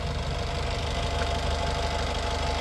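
A 2019 Honda City VX diesel car engine idling with a steady, even low rumble and faint rhythmic knock, heard close and alone.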